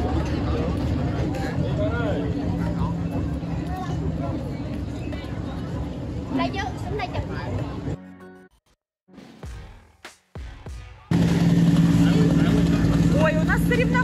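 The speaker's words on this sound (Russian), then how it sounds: "мы решили покататься на лодочках по реке Тубон." A small motorboat running on the Thu Bon River in Vietnam, its engine droning steadily beneath constant nearby talk, briefly cutting out before returning louder.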